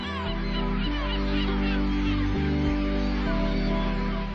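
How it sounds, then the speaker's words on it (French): Thousands of seabirds, gulls and falcons, call at once in a dense, busy chorus of squawks and cries over a steady low drone, on the Habibas islands off Algeria. "Des milliers d'oiseaux, avec des spécimens rares de faucons ou de goélands."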